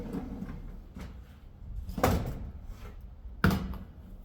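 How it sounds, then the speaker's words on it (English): A Frontline glass sliding door panel is lifted out of its track, giving two distinct knocking thuds over a low background rumble, the second sharper than the first. "this door will now come out this way"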